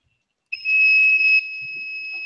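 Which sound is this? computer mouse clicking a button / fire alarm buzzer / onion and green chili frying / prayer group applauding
fire alarm buzzer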